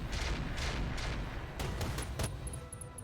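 Mech weapons firing in the BattleTech video game with the RogueTech mod, a steady run of booming, overlapping shots with sharper bursts near the end and faint electronic beeps on top, no voices.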